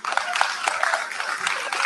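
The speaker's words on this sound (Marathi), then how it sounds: "जोरदार टाळ्या" Audience applause at a teachers' literary convention in Karjat, a steady wash of many hands clapping close and fairly loud, with a few voices audible in the crowd.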